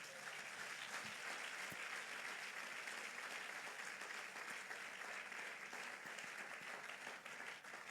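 A church congregation applauds in a continuous, even wash of clapping that holds for several seconds at a moderate, slightly distant level, ending in a sudden loud burst.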